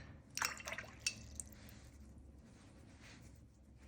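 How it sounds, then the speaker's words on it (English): A paintbrush rinsed in water makes a short burst of splashing and dripping, with a few faint trickles that fade into a soft background hiss. "Rinse my brush."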